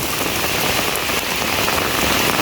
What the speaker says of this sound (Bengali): তাহলে চিন্তা করা যায় কি রকম বৃষ্টি নামছে